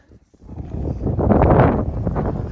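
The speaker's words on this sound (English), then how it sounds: "Super windy, it's cold." Strong, cold wind in Johnson Arch Canyon in Snow Canyon State Park, Utah, rushes and buffets the microphone in a loud, swelling roar after a short quiet start.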